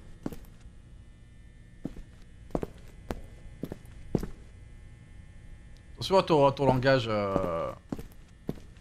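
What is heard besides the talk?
footsteps in a video game (Liminal Departement)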